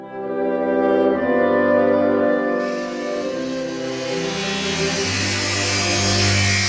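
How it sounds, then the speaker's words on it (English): Buzzsaw tearing through a painting of George Washington, a loud, continuous grinding whine that rises mid-way with added high hiss, played over steady tonal music. "the sound you hear is a buzzsaw ripping through a painting of George Washington"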